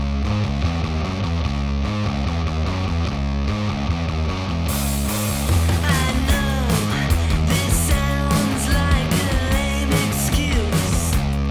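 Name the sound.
recorded music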